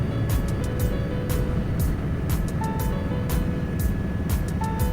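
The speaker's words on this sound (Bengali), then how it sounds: "এই হেলিকপ্টার থেকে" Steady, loud engine and rotor drone heard from aboard a helicopter in flight over the Kedarnath mountain route, with faint rhythmic swishes repeating throughout.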